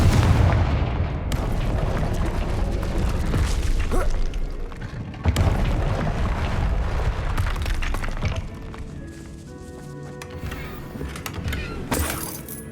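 Confringo fire spells explode in Hogwarts Legacy, several loud booming blasts with crackling shatter tails landing one after another over a dense, busy game soundscape.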